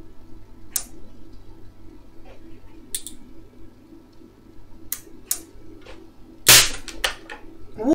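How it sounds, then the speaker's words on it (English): A Sundown SCV-6000D bass amplifier fails with a single sharp, loud bang from a faulty preamp board op amp. The bang follows a few faint clicks and ticks over a low background hum. "let's have a look at the explosion again from last night"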